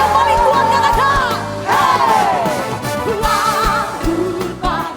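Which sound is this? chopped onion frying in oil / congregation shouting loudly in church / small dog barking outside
congregation shouting loudly in church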